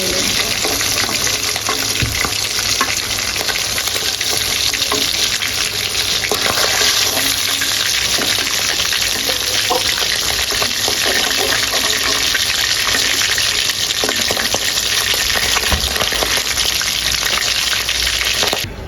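Surma fish fries in hot oil in a pan, giving a loud, continuous hiss and crackle with a few small spatters. It runs unbroken for nearly twenty seconds, close up and with no voices.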